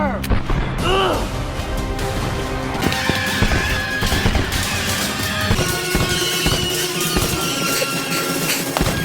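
A musket volley is fired on command in a movie battle scene, a loud crashing burst amid shouting and dense battle noise, with continuous chaotic clatter and booms afterward.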